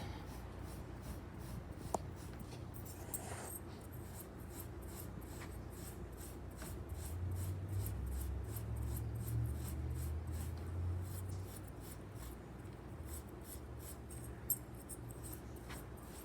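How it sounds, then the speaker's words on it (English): Steel wool rubs lightly over a piece of handmade jewelry, a soft, faint, continuous scratchy brushing with repeated strokes, heard alone in a quiet room. "I'll just lightly take the steel wool and go over that"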